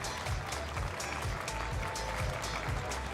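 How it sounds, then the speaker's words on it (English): Sustained applause from the crowd at a Teamfight Tactics esports tournament in Paris, celebrating a team's win; dense steady clapping with occasional louder bursts, continuous throughout. "Applaudissements pour eux, s'il vous plaît."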